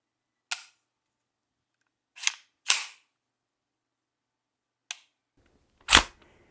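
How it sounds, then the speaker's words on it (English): The mil-spec trigger on a Foxtrot Mike FM9 9mm AR, with a heavy pull of about 6 pounds 1 ounce, is worked and reset. Five crisp, isolated mechanical clicks fall at irregular intervals in near silence, and the last one is louder. "the reset's super quick, but it's like a clunk instead of a tick"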